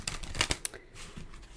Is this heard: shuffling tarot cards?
yes